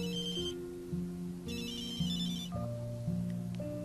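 A telephone rings with a repeating electronic melodic ringtone, cycling through bright chiming phrases at a steady pace, clear and unaccompanied by speech.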